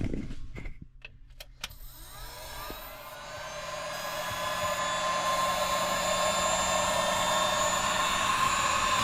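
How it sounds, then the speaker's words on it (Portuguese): After a few clicks, an electric heat gun in a mobile motorhome workshop, used to soften a hose, spins up into a loud, steady whirring blow that holds for several seconds. "eu comprei uma ferramenta que estava fazendo falta aqui na nossa oficina móvel, que é um soprador térmico"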